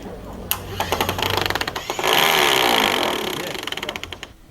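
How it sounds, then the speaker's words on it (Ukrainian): A power drill runs in loud bursts and a sustained stretch as workers repair the facade of a school building, with rapid hammering pulses and outdoor construction noise around it. "За допомогою ось такої дрелі сьогодні робочі розпочинають ремонт фасаду лінгвістичної гімназії"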